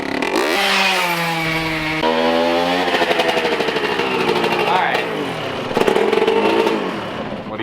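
A Kawasaki KX125 two-stroke dirt bike engine revs up and down just after starting, its buzzy tone rising and falling in steady surges. Voices talk over it throughout.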